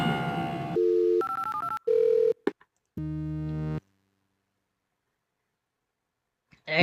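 Telephone dialing in the Where in the USA is Carmen Sandiego Deluxe computer game: a ringing tone, a quick run of stepped dial tones, then a longer buzzing tone ending in near silence, loud and with no talking.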